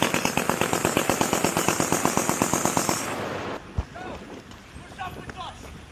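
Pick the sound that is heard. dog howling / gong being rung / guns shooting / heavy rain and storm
guns shooting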